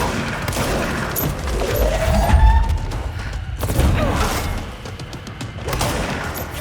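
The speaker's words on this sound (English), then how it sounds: "Why did I just shoot the wall?" Repeated gunfire from a video game, Control, strikes a wall in dense, sustained bursts with heavy low thuds, loud and close throughout.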